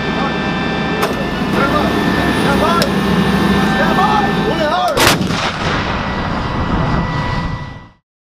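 An M109 self-propelled howitzer fires a single loud, close blast about five seconds in, with a sharp broadband crack and a rumbling decay. Shouted crew commands come before it, over steady engine and machinery noise.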